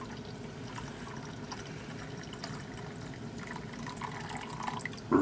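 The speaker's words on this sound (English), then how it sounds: "So we pour that into our cup." Freshly brewed coffee pours into a cup in a soft, steady trickle, faint and close, with a slight splash as the stream ends.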